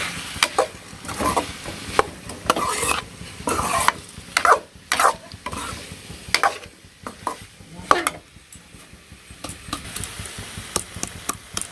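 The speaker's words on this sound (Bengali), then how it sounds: "সবজি ভাজা হয়ে গেছে, এখন সবজির মধ্যে কাঁচামরিচ দিয়ে দিলাম।" Vegetables with green chillies fry in a pan for a village-style festival offering, with a steady sizzle under repeated sharp scraping and clacking strokes of a stirring spoon, close and fairly loud.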